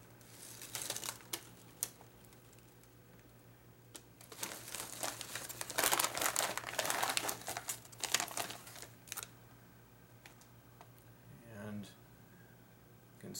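A bag of Old Dutch cheddar and sour cream potato chips crinkles in bursts of crisp rustling, loudest in a long stretch midway, with a steady low hum underneath and a voice speaking briefly.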